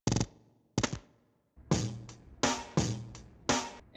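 A textured drum fill sample from a hip-hop, post rock, drum and bass and hyperpop track: about six sharp, punchy hits with crisp, noisy tails, the later ones coming in a quicker, denser cluster.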